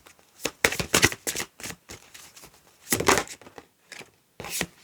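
Tarot cards shuffled by hand during a reading, a run of quick crisp riffling bursts with short pauses between them, close and fairly quiet.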